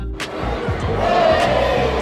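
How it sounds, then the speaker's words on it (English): Rugby crowd at an Ospreys home ground roaring and cheering as a try against Zebre is confirmed on the big screen, a dense, loud, sustained swell of voices with some shouting. "Crowd happy with that one."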